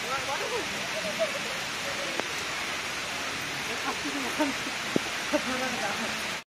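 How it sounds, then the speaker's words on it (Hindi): Heavy rain pours down in a dense, steady roar of hiss and spatter, with a few sharp drips and knocks, and a person talks over it before it cuts off abruptly at the end. "और तेज बारिश होने लग गई है."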